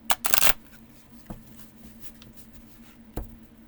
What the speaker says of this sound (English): shuffling this way is kind of difficult.